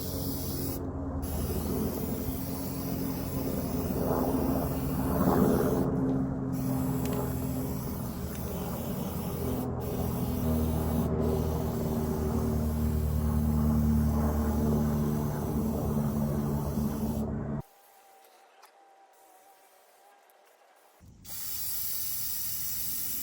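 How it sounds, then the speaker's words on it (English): A chemical spray hisses steadily onto a butterfly bush, a long close continuous spritz with a few short pauses, then silence before spraying resumes briefly. "And then I'm going to spray it."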